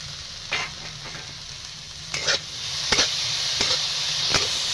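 Tomatoes and onions fry in a pan with a steady close sizzle, broken by several scraping strokes as a spatula stirs them.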